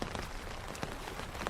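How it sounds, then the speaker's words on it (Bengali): Heavy rain falls at night in a cartoon ghost story, a brief, steady patter of drops on surfaces, even and moderately faint throughout. "বৃষ্টি থামার কোনো নামই নেই।"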